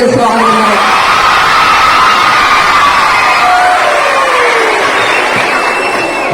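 A crowd of school children cheers, whoops and shouts in welcome, loud and sustained throughout, their voices filling the whole stretch.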